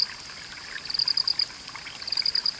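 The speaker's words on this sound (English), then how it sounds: "The rain streams are the origins of the natural musical sounds" A rain-fed stream flows and trickles steadily, a soft continuous wash of water with faint high bird chirps over it and no voices.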